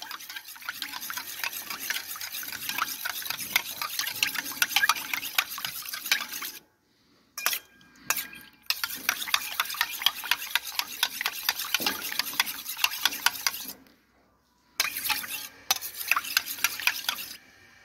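A spoon steadily stirring a milk sample mixed with surf detergent solution in a small container for a mastitis test, with brisk repeated scraping strokes and two brief pauses, close and fairly loud, with no talking.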